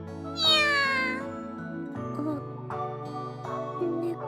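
A cat from the visual novel The Fruit of Grisaia gives one loud, drawn-out meow that rises and then falls, set over soft, sustained background music with no talking.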